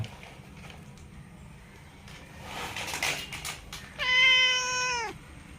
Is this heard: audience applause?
no